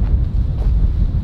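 Loud, steady wind buffeting a microphone, a continuous low rumble with gusty fluctuations and no voices.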